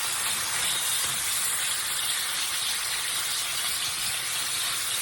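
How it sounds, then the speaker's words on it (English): Three big pork steaks searing in butter in a skillet, an even, close, continuous sizzle with soft crackling and no speech over it. "First thing we're going to do is just sear them in here"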